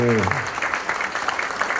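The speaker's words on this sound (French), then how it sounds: "Oui, vous applaudissez parce que vous êtes gentils" Audience applause after a concert performance with a beatboxer, a brief voice tone at the very start followed by steady clapping that stays under a murmur of sound.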